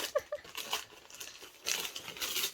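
Wrapping paper is crinkled and screwed up into a ball by hand, producing soft, irregular crackling bursts nearby at a low level, with no speech.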